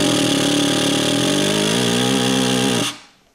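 Compressed air blown into a valve passage of a Ford C4 automatic transmission, a loud harsh buzzing rattle with a steady pitch that runs for nearly three seconds and then cuts off abruptly.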